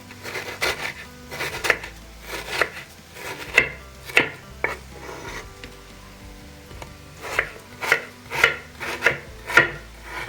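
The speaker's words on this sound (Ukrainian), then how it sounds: "Помідори добре ще не розморозилися, тому їх гарно різати." A knife slices through half-frozen homegrown tomatoes on a board in a home kitchen, giving a series of crisp, evenly spaced cutting strokes close by, pausing midway before resuming.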